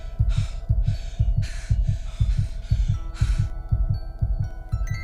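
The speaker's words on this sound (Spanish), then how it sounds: "y el latido frenético de mi corazón." A rapid, frantic heartbeat pulses in even double thumps, about two per second, with breathy gasps rising over the beats in the first part.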